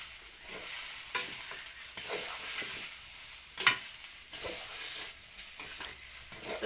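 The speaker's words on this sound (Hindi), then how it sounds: "तो इसे लगातार चलाते रहना है।" Kheer being stirred constantly in a pot on a clay stove, a close hissing simmer with repeated scraping strokes of the spoon in an uneven rhythm, no voices.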